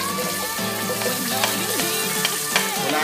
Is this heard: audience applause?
no